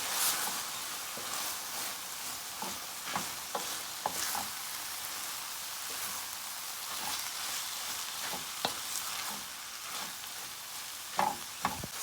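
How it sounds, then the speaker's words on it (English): Smoked herring mixture sizzling in a hot pan, with a steady frying hiss and repeated scraping, clattering strokes of a spoon stirring it, close up with no talking. "I'm gonna mix this up."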